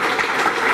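Audience applause at a conference hall, a short steady burst of many hands clapping together, fairly loud and continuous with no pauses.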